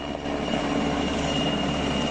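A Polish military helicopter flies overhead at the Belarus–Poland border, giving a steady, loud engine and rotor drone that holds without a break and has no voices over it.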